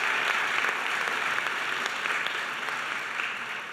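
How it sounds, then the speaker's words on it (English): An audience at a school principals' graduation ceremony claps steadily, a dense wash of applause that fades slightly toward the end. "Let's give them another round of applause."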